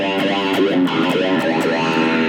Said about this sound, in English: It's kind of similar to a wah sound.